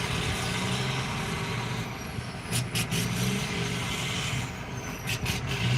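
A rock hauler truck pulling a tilting dirt and gravel trailer rumbles steadily close by, with a brief hiss of air brakes partway through and continuous road noise throughout.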